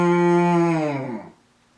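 A cow-moo phone ringtone sounds once, a single long, loud bovine bellow with a strong tonal call that slides slightly downward and fades out over about a second, followed by near silence and no talking.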